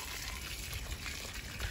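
Water is poured onto sandy soil in a rooftop garden pot, a steady close gush and splash lasting the whole moment.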